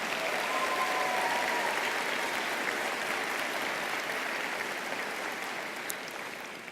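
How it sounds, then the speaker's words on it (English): Audience applause at a college of social work winter commencement ceremony, a broad, sustained roar of many hands clapping in a large hall that holds steady and then eases off slightly near the end. "So now let's give all the platform party a round of applause."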